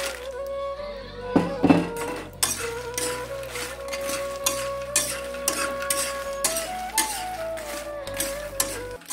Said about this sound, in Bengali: এবারে এর মধ্যে আগে থেকে ভেজে রাখা মাখনাগুলো দিয়ে দেব।